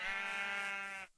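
A single drawn-out sheep bleat from a blocky Minecraft-style video game, clear and close, lasting about a second before cutting off.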